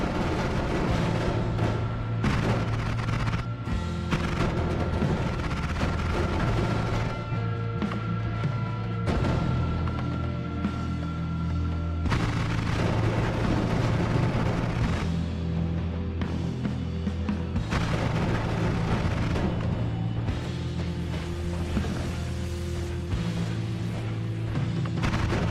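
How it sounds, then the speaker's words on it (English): Explosions in the video game Noita, a dense run of booming blasts and crackling bursts that continues with little pause and stays loud over layered game noise. "What is exploding in front of me?"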